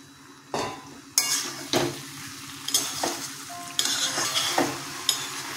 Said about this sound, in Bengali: এটা ভালো করে এঁচোড় আলুর সাথে মিশিয়ে নেব মশলাটা।